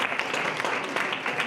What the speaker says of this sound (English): Kind of applause for both of them.